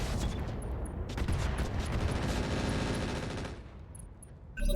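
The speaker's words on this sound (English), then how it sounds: "Let's fire Inferno and see if we can get some ammo explosions going off here." Inferno rounds firing in the mech combat game RogueTech, heard as a dense, loud rapid barrage of gunfire. The shots roll on continuously for several seconds, ease off toward the end, and a sharp burst comes right at the close.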